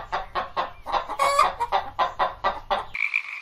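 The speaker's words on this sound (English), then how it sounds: "Chicken." A chicken clucks in a rapid series of short, close, rhythmic calls, followed by a brief rooster crow.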